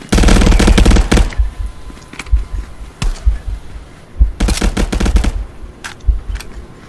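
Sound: gunfire in the video game Contractors

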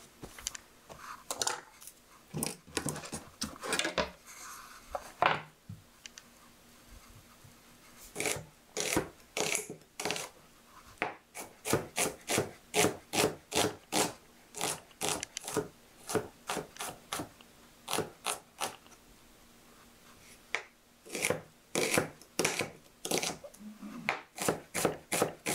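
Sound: knife chopping onion and green pepper on cutting board

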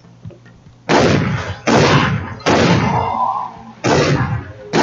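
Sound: gunfire in a video game

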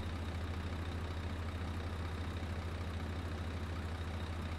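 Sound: vehicle engine running in Farming Simulator 17 video game

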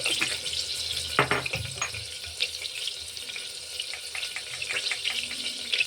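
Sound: tempering spices sizzling in hot oil

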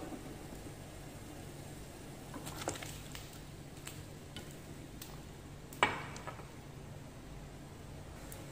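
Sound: blanching pork ribs in boiling water with white rice wine

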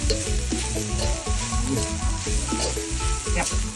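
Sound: stir-frying lizard in hot pan

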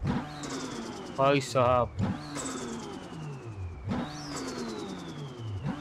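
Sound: Toyota Supra engine revving in video game BeamNG

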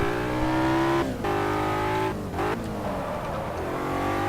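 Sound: BMW M3 car accelerating on a straight track

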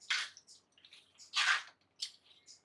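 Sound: pouring water into the curry pot

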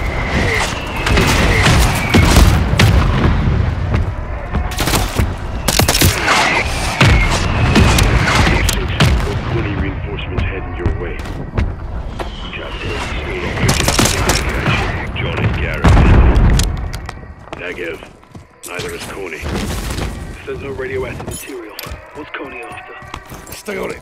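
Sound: mortar strike explosions in video game Call of Duty Modern Warfare III

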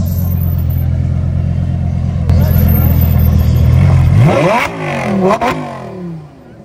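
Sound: Dodge Scat Pack engine revving in torque mode

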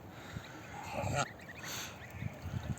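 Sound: goslings calling

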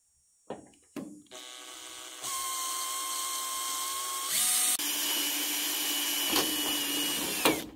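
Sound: drilling into a rain barrel downspout splice

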